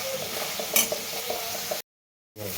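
Ridge gourd curry with a garlic tempering is stirred in a hot pan, a soft, steady scraping with a light sizzle that cuts briefly to silence near the end.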